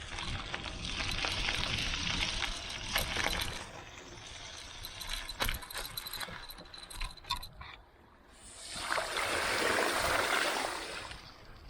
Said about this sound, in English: Pretty fair amount of water over the dip.